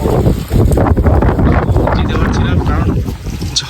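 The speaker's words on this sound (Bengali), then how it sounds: "মুসুলধারে বৃষ্টি তার সঙ্গে ঝড়ো হাওয়াও বইছে" Strong gusting wind from Cyclone Remal roars across the microphone with a dense, steady wash of heavy rain, loud and continuous throughout.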